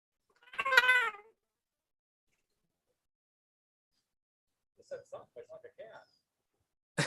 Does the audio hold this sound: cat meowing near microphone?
yes